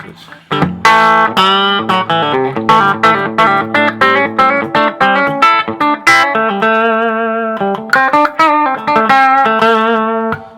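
An Esquire electric guitar on its middle pickup position with crunchy overdrive plays choppy riffs and sustained chords, loud and close, with short picked bursts and ringing notes.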